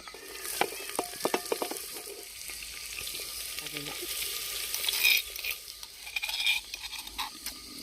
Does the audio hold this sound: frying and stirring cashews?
yes